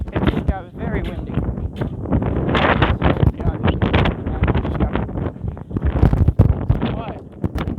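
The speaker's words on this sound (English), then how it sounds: "It just got very windy." Strong wind gusts loudly across a campsite, buffeting the microphone with continuous roaring rumble and surges throughout.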